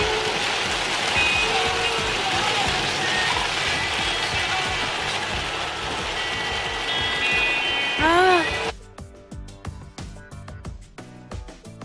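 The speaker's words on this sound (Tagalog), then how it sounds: "Ang lakas ng ulan!" Heavy rain pours steadily as a dense, loud hiss for most of the stretch, with a vehicle's reversing beeps audible, before the sound cuts abruptly to a quieter, sparser scene.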